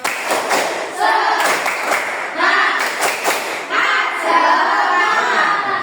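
A classroom of students performs a rhythmic spirit clap, loud near bursts of clapping and thumping in repeated patterned groups, with young voices shouting along between the beats.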